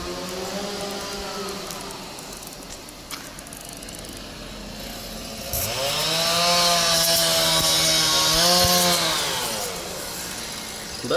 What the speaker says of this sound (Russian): Вон чувак стоит с бензопилой.